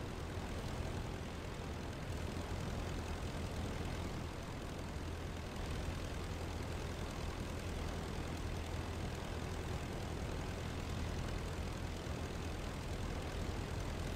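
The engine of a World War I fighter plane in the flight game Rise of Flight drones steadily as a broad, unbroken rumble with a faint propeller hum, holding at a constant moderate level with no talk.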